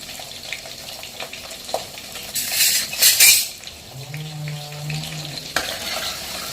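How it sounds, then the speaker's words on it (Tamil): Onions and garlic being sautéed and stirred in a pan for a Tamil fish curry, with steady sizzling, a burst of louder frying around the middle and clinks of a utensil against the pan. "போட்டு நல்லா வதக்கலாம்"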